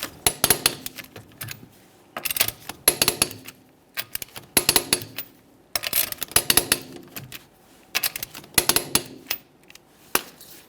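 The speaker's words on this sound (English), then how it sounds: "we're going to torque each one of our lug nuts in a crisscross manner to 100 foot-pounds." A torque wrench tightens the lug nuts on a Ford Fusion rear wheel to 100 foot-pounds in a crisscross order. Bursts of close metallic ratcheting clicks come in repeated clusters, each separated by short pauses.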